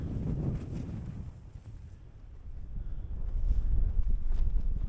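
Gusty wind on a frosty winter summit buffets the microphone with low rumbling roar, easing briefly then building louder again, with no voices.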